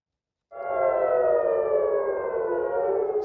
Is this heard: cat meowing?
no